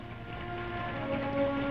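Rain falls steadily at night, a soft continuous hiss that fills the scene, with a faint tonal hum running beneath it and no talk.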